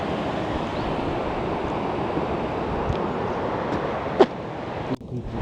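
Steady rushing water of the Stryi River in Ukraine flows continuously, a broad, even wash of sound with one brief click near the end.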